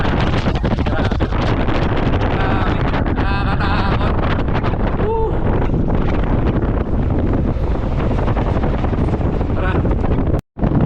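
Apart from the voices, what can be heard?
strong wind on Quirino Bridge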